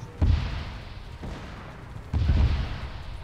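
Heavy gunfire and booming blasts in a Halo mod for Arma 3, with two loud broadband bursts about two seconds apart over a continuous roar of battle noise, and no talk.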